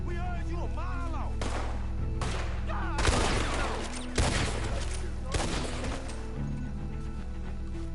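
Gunfire in Red Dead Redemption 2 during a night shootout: a rapid run of sharp shots and cracking volleys, loud and close, with voices talking in the game under and between the bursts.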